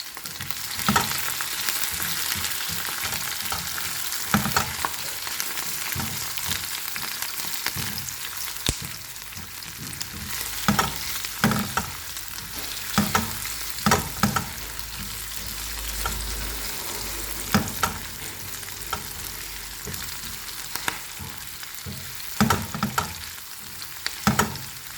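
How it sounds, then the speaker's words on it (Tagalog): Chicken gizzard and liver frying in a pan, a steady close crackling sizzle punctuated by irregular scrapes and knocks of a spatula stirring the meat, with no one speaking. "So, I will fry."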